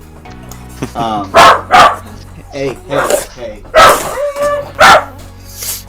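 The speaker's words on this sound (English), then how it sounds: "What are you barking at?" A dog barks in a house during a card-game session: several loud, sharp barks in bursts with short whimpers between, close by, as a voice briefly speaks.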